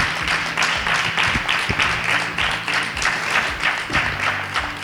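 Enthusiastic crowd applause at a Falles festival event in Massamagrell, a steady roar of many hands clapping with a few louder close claps, continuous throughout.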